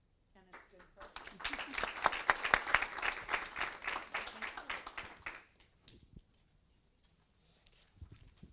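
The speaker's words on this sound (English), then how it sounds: "Let's give them another round of applause." Audience applause at a school district study session, a sustained burst of many hands clapping that swells quickly and fades after about five seconds, followed by quieter room noise and a few scattered claps.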